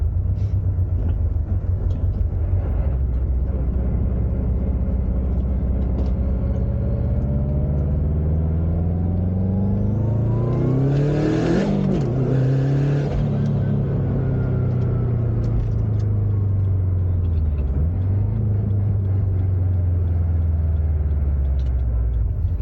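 A Subaru STi turbocharged engine with a billet VF48 turbo revs up through a long rising pull to a loud peak with a wastegate hiss, then falls back to a deep rumble, close and without talk.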